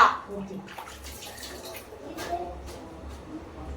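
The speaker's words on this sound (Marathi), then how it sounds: "तो पाणी एकदम फोर्स मध्ये आलं" Water rushes out forcefully and steadily from a tap or hose while washing hair, a close, continuous splashing flow with a short burst at the start, while a voice talks over it.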